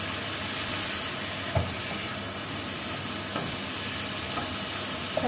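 Sauce seasoned with pepper simmers and sizzles in a pan in a steady hiss, with a couple of faint scraping stirs, close and fairly quiet, with no talking.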